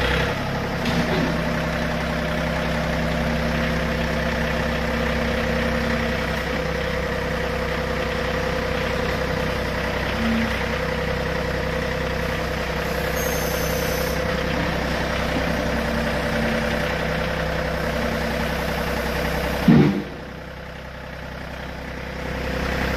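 A 2010 John Deere 4105 four-wheel-drive 41-horsepower tractor engine idles steadily close by for a long stretch, with a brief clunk near the end before the rumble continues, slightly quieter.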